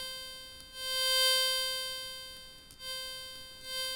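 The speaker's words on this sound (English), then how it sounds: "so for atmospheres we want something like a pad" Long synthesizer pad note for a spooky dark psytrance atmosphere, a sustained bright tone that swells and fades slowly in waves, with no voice.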